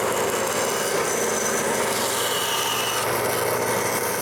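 A hand saw cuts through the wooden handle of a store-bought brush in a woodworking shop, producing a continuous close rasping sound that stays steady and loud for the whole stretch.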